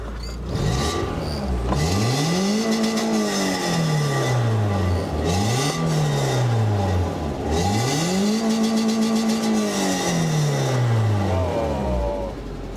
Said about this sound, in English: we're going to rev it now, see how bad it sounds, because apparently the cat's been gutted